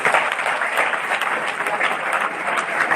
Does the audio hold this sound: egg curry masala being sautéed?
no